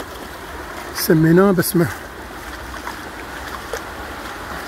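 A river near Interlaken flows in a steady broad rushing wash beneath a man's brief spoken phrase, continuous and moderately loud throughout.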